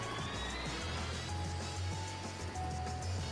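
Boost of a hover racing machine in F-Zero GX, a steady low engine whine with rising tonal layers, continuous and fairly faint with no talking.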